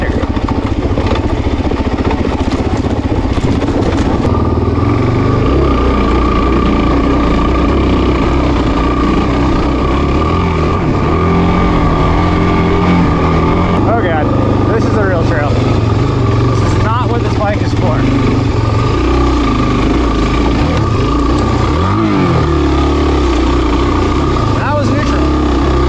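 A Suzuki DRZ400 dual-sport motorcycle rides downhill across the Mojave desert, its engine droning loud and continuous with shifting revs and wind rush, while a voice talks over it throughout.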